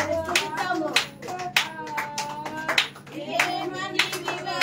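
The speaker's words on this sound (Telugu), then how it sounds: "మీ చేతులు చప్పట్లు కొడుతూ ఆయన స్తుతిస్తాము" Church congregation clapping hands together in praise during a Telugu Christian worship service, repeated rhythmic claps filling the room with voices or singing mixed in throughout.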